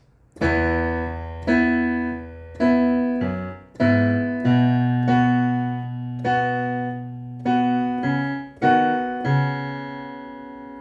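Piano intro of a song: notes and chords struck one after another at a slow, steady pace, each ringing out and decaying, played solo and close with no talking.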